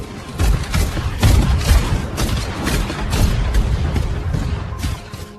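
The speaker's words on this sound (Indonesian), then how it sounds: "kejutan bom Clay pun diledakkan" A loud, rumbling blast followed by a series of heavy booming thuds and crackling bursts, like an explosion with rolling aftershocks.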